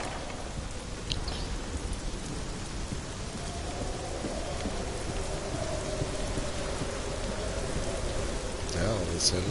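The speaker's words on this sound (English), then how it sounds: "Now all of a sudden it's raining." Steady rain hiss in Hellblade: Senua's Sacrifice at night fills the whole stretch, a dense wash of falling drops with a faint low rumble beneath, constant and fairly close.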